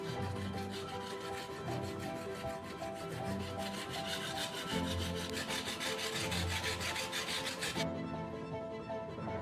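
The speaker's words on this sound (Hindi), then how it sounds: "अब हम हीरे की परत वाले टुकड़े को लेकर इस चाकू में धार बनाएंगे।" A knife made from kitchen foil is rubbed back and forth on a diamond sharpening plate, a steady rasping scrape in even strokes, close and moderately quiet, ending abruptly.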